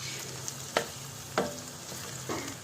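Onion and tomato masala for a paneer curry fries quietly in a pan under a soft, steady sizzle, with three sharper scrapes of a spoon stirring at intervals.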